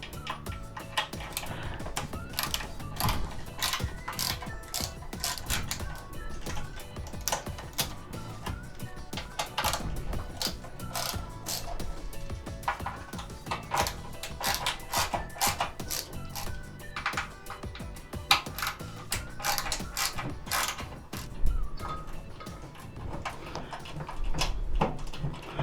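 Screws being removed from the bottom of an old broken RCA microwave's transformer, heard as a busy run of close, sharp metallic ticks, taps and clicks that continue steadily throughout with no talking.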